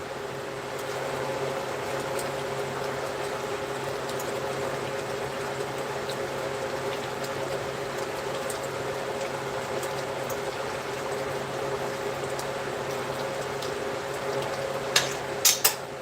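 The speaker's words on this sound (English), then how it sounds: "Let it cook. Let it bubble. Let it saute." Tofu sautéing in a pan on a stovetop, a steady low sizzling bubble that holds evenly throughout, with a few sharp pops near the end.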